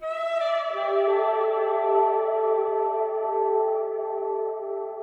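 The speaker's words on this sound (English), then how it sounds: "this is what it will sound like in the Giza pyramid" A sustained tone rings out through a reverb effect simulating the Giza pyramid interior, hanging in a long, heavily reverberant tail as if inside a vast stone chamber.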